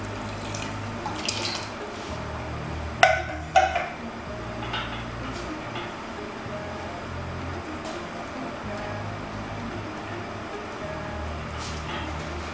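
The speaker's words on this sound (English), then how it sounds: "add little water to loosen it." Water pours steadily into a pot of coconut jollof rice mixture with coconut milk, a continuous soft trickle and splash, with a couple of brief clinks partway through.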